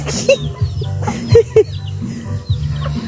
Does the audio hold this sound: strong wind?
no